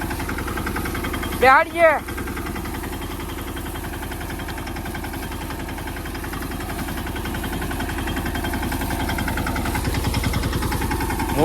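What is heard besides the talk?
mini tractor engine idling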